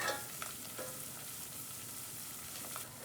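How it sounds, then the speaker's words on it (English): A flour roux cooking in a pan, a steady soft sizzle with faint scrapes of the spoon as it is stirred, close and low in level, with no voices. "So we'll stir this together. I'm going to let it cook for a minute or two just to cook off the raw flour taste."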